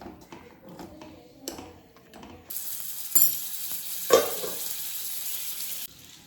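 A spoon stirs curry in a pan with soft scraping clicks and taps. Partway through, a steady sizzle of frying rises and continues, punctuated by a couple of sharper knocks against the pan.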